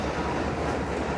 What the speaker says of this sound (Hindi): एक कोल कैरियर ट्रेन जो है वो हैदराबाद से अप साइड पर जा रही है